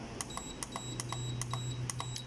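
A DK-14 electric treadmill's control panel gives a rapid series of short, sharp electronic beeps, about ten in steady succession, as its plus button is pressed over a low motor hum.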